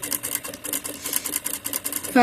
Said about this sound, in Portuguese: E continuamos fazendo a nossa costura